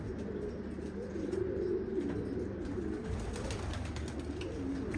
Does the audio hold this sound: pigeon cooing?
yes